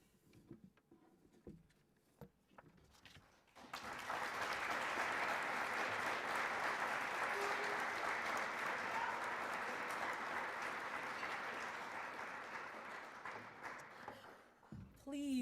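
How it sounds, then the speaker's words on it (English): An audience at a Black History Month kick-off event breaks into loud, sustained applause that swells after a few quiet seconds of faint talk, holds steady, then tapers near the end. "Please give another huge round of applause to all of our living statues"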